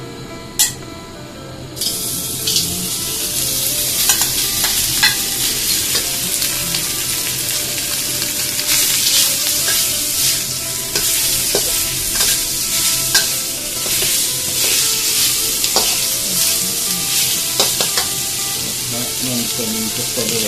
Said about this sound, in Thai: แบบแรกก็เจียวสองชั้นก่อนครับ